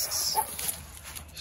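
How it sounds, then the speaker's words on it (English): An extremely energetic pup gives a quick, sharp bark and yip during flirt-pole work, brief and close with a faint whimpery edge. "Extremely energetic pup."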